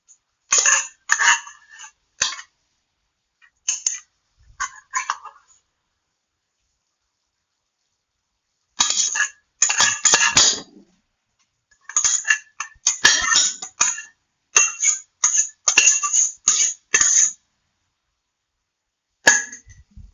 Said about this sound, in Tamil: இந்த ஒயிட் ரைஸை மிக்ஸ் பண்ணலாம்